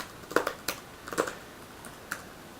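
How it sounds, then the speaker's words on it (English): Short bursts of keystrokes on a computer keyboard, a few quick clicks in two small clusters and then a lone tap, close and fairly quiet against a faint room hush. "So I'm going to type in Elmer"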